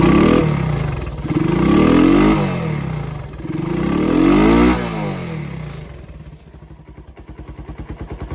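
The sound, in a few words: Honda ATC 125M engine running after carburetor rebuild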